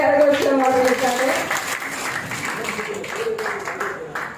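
An audience at a church Christmas cultural program gives applause, starting under a loud voice that fades as the clapping carries on at a moderate, uneven level.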